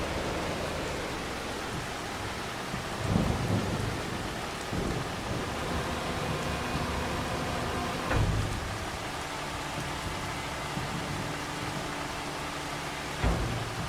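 Rain and a thunderstorm on a farm in the video game Farming Simulator 25, with steady rain hiss throughout and low thunder rumbles swelling at a few points.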